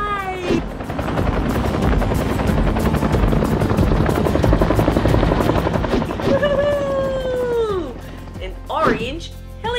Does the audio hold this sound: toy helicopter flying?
yes